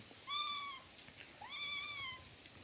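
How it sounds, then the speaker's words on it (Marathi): Pet domestic cats meow indoors, two distinct drawn-out meows about a second apart, clear and fairly close against a quiet room, with no talking over them. "माझी मांजरं आहेत ना, ती लाडकी आहेत, त्याच्यामुळे ती मांजरं मला मध्ये मध्ये व्यत्यय आणतात"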